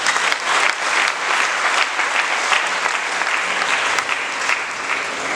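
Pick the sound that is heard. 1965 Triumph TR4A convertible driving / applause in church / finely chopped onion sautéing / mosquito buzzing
applause in church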